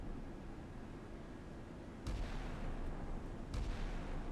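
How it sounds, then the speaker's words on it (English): A missile launch in a naval combat game set during Operation Praying Mantis of 1988: two muffled low booms about a second and a half apart, the second followed by a sustained rumbling roar, moderately distant. "Please launch that missile"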